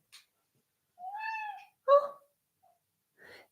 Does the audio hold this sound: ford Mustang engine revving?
no